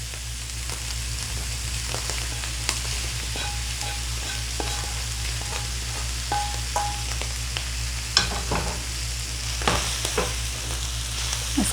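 Chicken liver frying in a pan with tomatoes and spices, a continuous close sizzle over a low steady hum, with scattered stirring scrapes and taps throughout, no talking.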